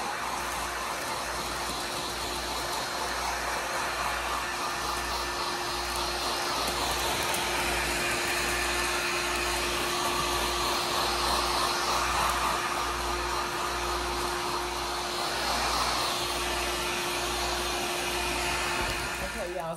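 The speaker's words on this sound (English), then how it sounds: "if you're shrink wrapping, you need to keep your gun or your blow dryer moving" A heat gun or blow dryer shrink-wrapping a bag gives a steady, loud electric blower whoosh with a low motor hum and a fixed whine, holding nearly constant throughout with no talking.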